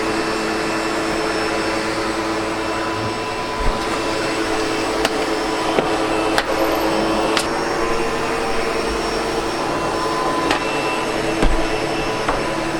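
A SEBO Automatic X7 Boost ePower vacuum cleaner runs steadily with a loud, constant motor roar, broken by a few brief knocks and clicks as it moves across surfaces in a house.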